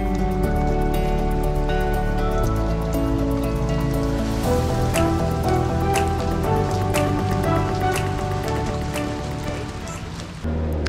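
Heavy rain pours down on a boat in El Nido, Palawan, with a steady, dense patter and scattered sharp drips that hold loud and even throughout before easing slightly near the end.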